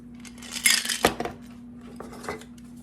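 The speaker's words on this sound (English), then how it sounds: "put your crème de violet in there. Close it good. Give it a good shake." Cocktail shaker filled with ice and crème de violette, shaken by hand in a few quick bursts of rattling, clinking ice against metal, close up, with a low steady hum underneath.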